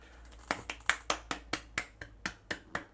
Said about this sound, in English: I like clapping my hands together like the monkey